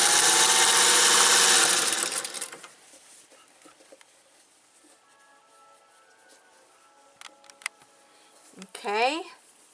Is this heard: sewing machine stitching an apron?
yes